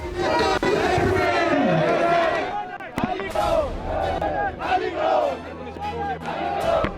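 A crowd of roughly 200–300 local protesters clashes at the Singhu border near a farmers' tent camp, loud shouting and battle cries from many voices overlapping, with a sharp bang partway through and agitated yelling continuing.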